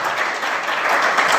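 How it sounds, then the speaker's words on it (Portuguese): A church congregation claps together in a steady, dense burst of applause, close and fairly loud, with no speech over it. "Você pode aplaudir o Senhor, glorificando a Deus"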